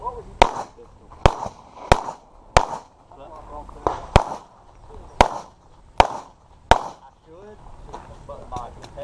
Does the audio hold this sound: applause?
no